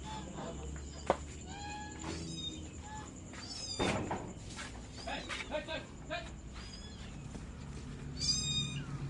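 A white cat meows several times in short rising cries over a noisy, busy background, with people talking nearby and a sharp knock partway through.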